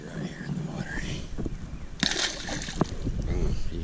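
A small fish is let go into shallow creek water during a kayak fishing trip, giving a brief splash and slosh close by, with someone talking softly around it and light ambient noise.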